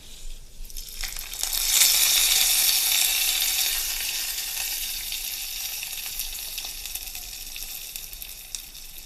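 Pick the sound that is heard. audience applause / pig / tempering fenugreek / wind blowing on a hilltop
tempering fenugreek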